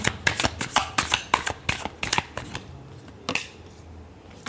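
A deck of tarot cards is shuffled by hand close up, making quick riffling flutters and soft slaps in a rapid series that trails off after about three seconds.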